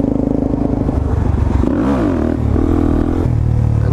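A motorcycle at full throttle on back roads roars loudly and steadily, its engine tone rising and dipping briefly midway with wind noise throughout.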